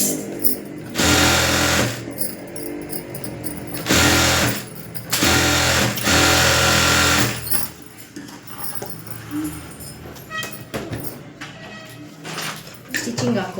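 A sewing machine stitches a line along blouse lining, running in loud sustained bursts of steady motor whir separated by short pauses, with quieter handling and faint talk in the gaps.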